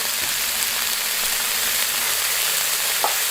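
Margarine melts and sizzles in a hot wok, producing a loud, steady, close frying hiss with a couple of faint clicks and no voices.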